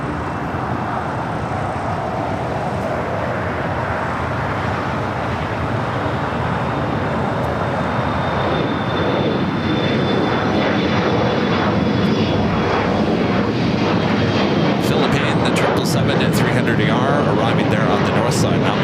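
A 34-year-old Boeing 767-300ER, first delivered in 1990 to Delta, arrives at LAX with a loud, continuous jet roar and thin engine whine that builds toward the end, under ongoing talk.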